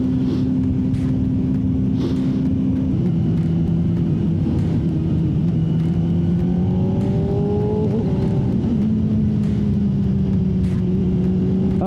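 A 2024 Honda CBR600RR motorcycle engine drones and revs on a wet road in the rain, a loud steady high-pitched tone that rises and falls with the throttle throughout, no voices.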